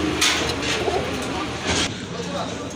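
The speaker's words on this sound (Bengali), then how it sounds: "এই যে দেখেন খুবই চমৎকার এক জোড়া কবুতর" Pigeons at a market stall coo in soft, repeated low calls close by, mixed with busy background murmur and people talking.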